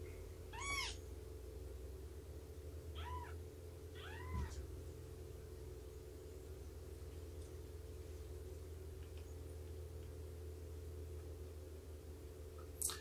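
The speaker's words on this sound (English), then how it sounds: "She's a very, very vocal kitten." A young female kitten gives several clear, rising meows close by, spaced over the first few seconds, over a steady low indoor hum, then stays quiet.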